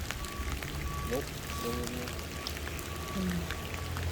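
Steady rain falls on outdoor surfaces on a winter day, a dense, even patter heard throughout, with voices talking faintly under it.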